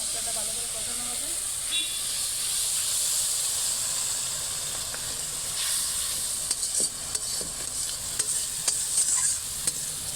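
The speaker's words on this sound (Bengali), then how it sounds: "মশলাটা ভালো করে কষানো হবে।" Cumin-spiced paste for a rohu fish curry sautéing in a pan gives a steady, close sizzle and hiss, with scattered clicks of a spoon stirring through it.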